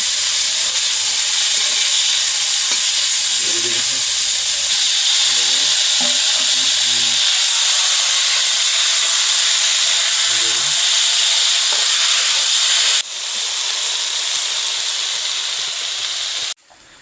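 Banana flower and potatoes cook in a pan with a steady loud hiss and sizzle that carries on throughout, with brief voices murmuring underneath.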